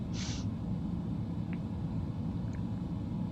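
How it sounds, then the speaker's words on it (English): A steady low engine rumble from an ATR-72 turboprop idling on the ground at Faro in Microsoft Flight Simulator, constant and even with a couple of faint high blips over it. "You can hear the jet engine going"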